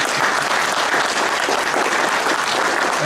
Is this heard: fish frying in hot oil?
no